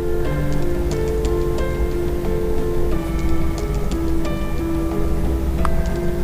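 A ringtone plays loud and steady through the repaired speaker of a Realme 8 5G phone, a continuous tonal melody with shifting notes filling the whole stretch, no talk over it.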